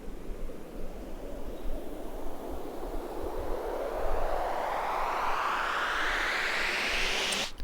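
An upriser in an electronic track, a noisy sweep climbing steadily in pitch over several seconds and building to a bright peak before cutting off.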